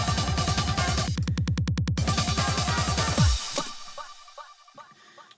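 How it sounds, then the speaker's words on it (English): A kick drum carrying some sub bass pounds in rapid, evenly spaced hits through an electronic build-up, each thump loud and boomy, before the pattern cuts off and the remaining sound fades to faint, sparse hits. "So the kick sounds like this."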